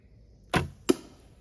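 An arrow from a Wardens Mark 1.0 budget recurve bow, with a sharp release snap followed a moment later by a crisp impact on the target, both close and with no talk.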